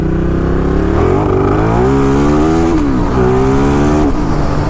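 A Ducati Diavel cruiser motorcycle revs hard under acceleration, its engine pitch rising and dipping in uneven surges and stutters as traction control cuts in, loud and close with wind noise throughout.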